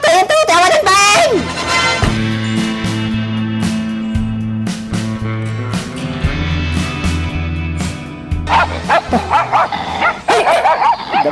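A dog barks in repeated sharp yaps within a dramatic scene, mixed under loud dialogue and a sustained musical score, with dense bursts at the start and near the end.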